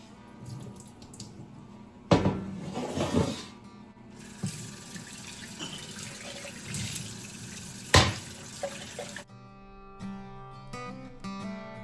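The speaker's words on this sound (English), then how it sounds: "I'm actually going to rinse some more jars and get them put into the oven." Canning jars get rinsed under a running kitchen tap while pressure canning dried beans, with a steady rush of water, splashes and a few clinks of glass, and then the flow stops near the end.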